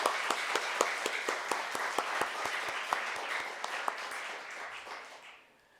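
A church congregation applauds to encourage the women's choir: a dense crowd of claps with sharp, regular individual beats standing out, loud and sustained before trailing off to near silence at the end.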